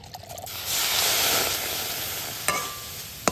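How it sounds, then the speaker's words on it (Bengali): Semolina and water sizzle and hiss steadily in a hot pan as it is stirred, a loud continuous frying wash with a sharp scrape near the end and no talking. "এবারে সুজিটা ভালো করে এইভাবে নেড়ে চেড়ে নেব কিছুক্ষণ"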